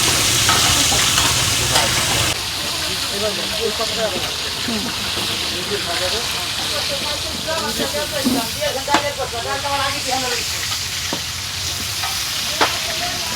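Hilsa fish frying at a riverside stall at Mawa ghat, a steady crackling sizzle running throughout with occasional sharp pops, heard over a busy background with voices talking nearby.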